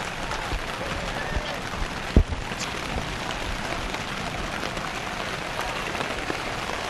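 Steady rain falls on an outdoor paintball field during a tournament, a dense, continuous hiss filling the scene with one sharp knock partway through.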